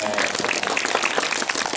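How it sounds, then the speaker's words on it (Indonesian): Brief burst of audience hand clapping at a religious gathering, moderately loud and continuous over a short stretch with a murmur of voices beneath. "Tepuk tangan"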